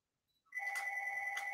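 A home telephone starts ringing in a house after a brief silence, giving a steady, sustained electronic ring tone at moderate distance, alone without any talk.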